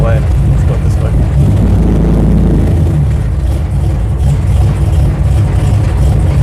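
A 1968 Dodge Charger backing up in reverse, its engine a loud, steady low rumble that stays close and continuous throughout, with slight swells in throttle.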